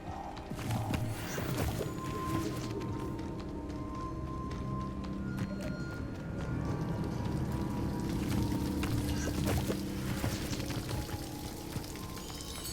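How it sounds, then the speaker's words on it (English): Steady rushing water from a waterfall in the Hogwarts Legacy video game, a continuous broadband roar filling the whole clip alongside soft game ambience and occasional thuds, with no talking. "The waterfall."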